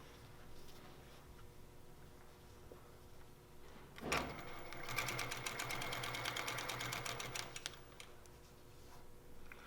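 An Innova longarm quilting machine starts with a sharp clack, then runs in a rapid, even stitching rattle for a few seconds before stopping, close and fairly quiet in a still room.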